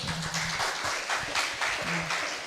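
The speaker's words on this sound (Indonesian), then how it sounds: "beri tepuk tangan untuk Bu Zita." A crowd applauds steadily throughout at a school event at SMA Fons Vitae 1 Jakarta, a dense wash of clapping with a faint low hum beneath.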